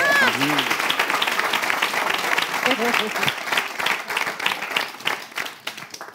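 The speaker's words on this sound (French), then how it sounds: "On va applaudir pour Joyeux Noël." Live audience applause at a Christmas-themed moment on a French-language TV show, steady dense clapping throughout with a voice talking over the start before the claps trail off near the end.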